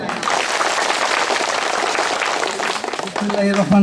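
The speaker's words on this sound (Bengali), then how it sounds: "এখন আপনারা একটা হাততালি দিবেন" A prison audience claps during a Pohela Boishakh celebration show with a magic act, steady dense applause filling the space throughout, with a brief tonal sound entering near the end.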